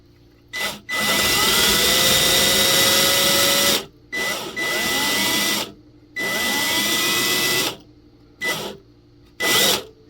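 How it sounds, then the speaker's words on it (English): A power drill fitted with a 1/8 inch bit bores a hole while a strap button is fitted to a guitar, whirring loudly in four bursts of a few seconds each, with short pauses and a brief final burst. "This is the 1/8 inch drill bit. This is going to be the final hole size for me."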